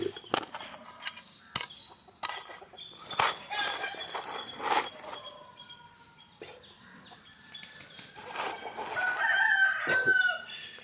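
A flock of country chickens with a rooster crowing repeatedly among scattered clucks and squawks, the calls close by and intermittent over a farmyard background.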